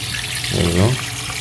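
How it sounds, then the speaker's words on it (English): Water runs steadily from a newly repaired faucet in a plumbing job, a close hissing stream while a voice briefly speaks over it. "Faucet's working, no leaks."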